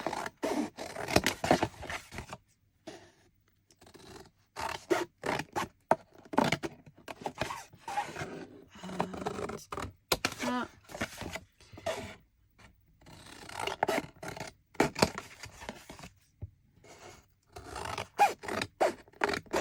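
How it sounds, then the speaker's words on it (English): Scissors snipping the paper flaps off a handmade junk journal, a long run of quick crisp cuts in irregular bursts with brief pauses between, close and clear with no talking. "This is the back, and I'm going to cut all of these flappy bits off."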